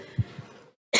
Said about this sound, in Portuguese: Me perdoa, gente, que eu estou com uma tosse.